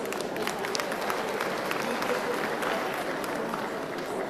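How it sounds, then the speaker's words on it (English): Audience applause at a matric class of 2022 celebration function: a continuous, fairly soft wash of many people clapping, steady from start to finish, with some crowd murmur underneath. "A round of applause please to yourselves"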